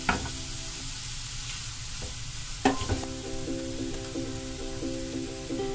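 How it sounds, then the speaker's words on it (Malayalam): A ground spice and onion paste with Kashmiri chili powder sautés in a pan, giving a steady close sizzle with a couple of sharp stirring clanks and a faint rhythmic tapping, with no speech. "ഇത്ര ഇതൊന്ന് നല്ലോണം വഴണ്ട് വരട്ടെ, വെന്ത് വഴണ്ട് വരട്ടെ."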